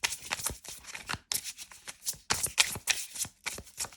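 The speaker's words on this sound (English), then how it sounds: "I'm going to pull 2 more cards." Tarot cards riffled and shuffled in quick repeated bursts with brief pauses between them, crisp and close, with no voices.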